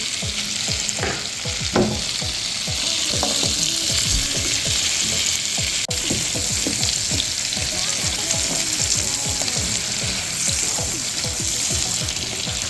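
Onions frying in olive oil for a seafood pasta, a loud, dense, continuous sizzle and crackle close by with steady spitting pops throughout.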